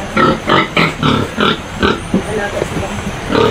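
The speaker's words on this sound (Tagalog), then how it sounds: "So ngayon may baboy na naman sila dito, isa." A pig oinks and grunts in a series of short, rhythmic bursts nearby, with people talking over it.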